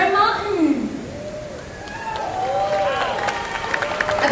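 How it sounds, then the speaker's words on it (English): An event crowd aboard the cruise ship Icon of the Seas applauds and cheers for top-ranked cruisers. The sustained clapping and cheering is fairly loud, and voices and a host's speech run over it. "A big round of applause."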